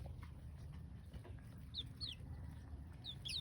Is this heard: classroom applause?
no